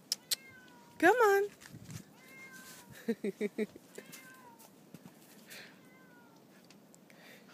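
A cat lets out a loud, wavering meow and several shorter mews nearby in wet snow, mixed with a person calling softly and a series of quick thuds.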